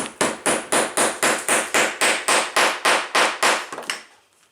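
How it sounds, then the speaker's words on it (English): About a dozen sharp hammer blows on a hole punch ring out at a quick, even rhythm, loud and close, stopping with a last softer tap. "I'm going to take my hammer."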